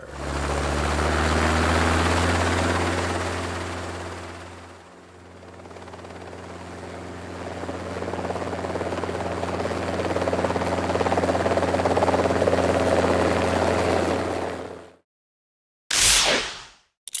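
A helicopter drones with a loud, steady rotor thrum and whine that dips briefly, then swells again before cutting off, followed by a short, sharp burst after a pause.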